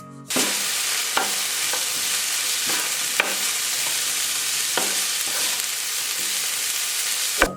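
Peas, sweet corn and cabbage fry in hot oil for egg fried rice, a loud, steady sizzle broken by a few sharp scrapes and clacks of stirring.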